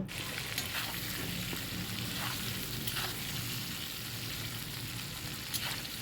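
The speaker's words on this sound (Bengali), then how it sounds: "নুন আর হলুদ দিয়ে আমি আলুটাকে ভালো করে ভেজে নেব" Potato pieces fry with salt and turmeric in a pan, a continuous even sizzle heard close but fairly quiet, with a few faint stirring clicks and no talking.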